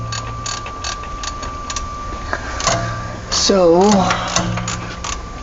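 A ratchet wrench loosening a bolt on a Dodge differential near the drain pan, giving a steady mechanical clicking and creaking under a brief spoken word.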